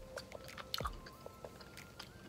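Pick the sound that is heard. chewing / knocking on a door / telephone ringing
chewing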